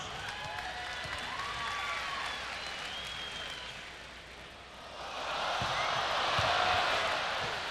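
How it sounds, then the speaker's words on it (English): Crowd applause in an arena at a 1999 NCAA men's basketball game between Utah and Hawaii, a moderate wash of clapping that dips briefly and then swells louder, with whistles and chatter underneath. "Give them a round of applause"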